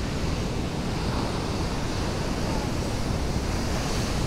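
Ocean surf washes onto Calangute beach in Goa, a steady, dense roar of breaking waves with wind buffeting the microphone, continuous and fairly loud throughout with no talking.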